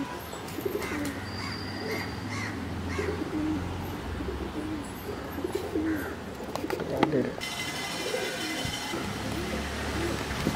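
Black-set breed pigeons coo steadily and nearby in a loft, with chirps and a rustle of wings, while people talk over the birds throughout.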